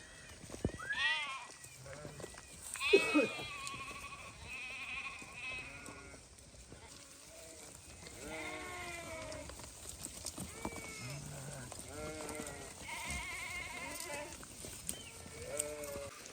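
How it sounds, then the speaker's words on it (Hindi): A flock of sheep and goats of Gaddi shepherds bleats repeatedly while moving through a forest in Himachal, calls overlapping near and far, with a possible voice or two mixed in. "ये देखो दोस्तों, जंगल के बीच में से हमारी भेड़ बकरियां निकलती हुई।"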